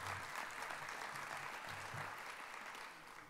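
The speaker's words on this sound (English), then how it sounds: "I'd like to ask you to give her another round of applause" An audience at a theatre season announcement claps warmly and continuously, a dense wash of applause that eases off slightly near the end, with no talking over it.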